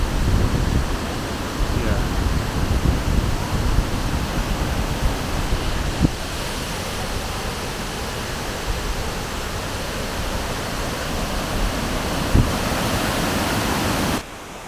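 Tall cascading waterfall in Meghalaya heard from a bridge above the river, a loud steady roar of falling water filling the whole stretch without pause, with a couple of faint knocks.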